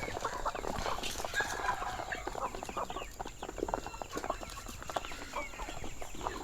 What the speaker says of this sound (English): And you can see we have some local chickens here too.